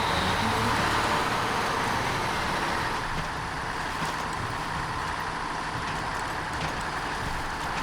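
A heavy truck drives in the off-road game SnowRunner, its engine a constant broadband rumble and roar that holds steady and fairly loud throughout, with no talk over it.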